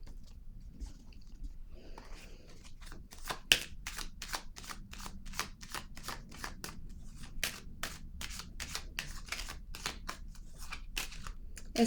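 A deck of tarot cards is shuffled close up in a steady run of crisp riffling snaps, repeated rhythmically with no talking over it.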